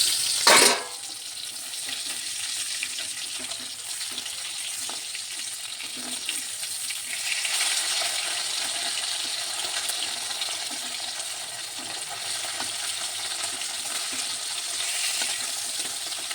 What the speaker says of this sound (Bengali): তো মাছগুলো ভাজা হচ্ছে